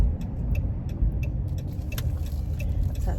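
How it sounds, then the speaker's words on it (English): A van drives along a road, heard from inside as a steady low engine and road rumble with faint ticking and light rattles over it. "I drive a van, so I'm up higher"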